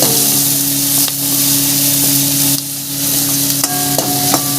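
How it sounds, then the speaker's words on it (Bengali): Red and green capsicum stir-fry with spices in a pan: a loud, continuous sizzle broken by several sharp spatula scrapes and knocks, heard alone without talk. "এবার দিয়ে দেবো লাল ক্যাপসিকামটা, দিয়ে আমি ভালো করে মিশিয়ে নেবো"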